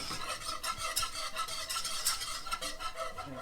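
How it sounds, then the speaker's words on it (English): A spoon scrapes and swirls rhythmically through milk being added to a pan over low gas, with quick repeated stirring strokes and a faint sizzle, close and fairly loud, with no talk. "Now you start adding the milk and keep stirring it so it doesn't form, so you get rid of all the lumps."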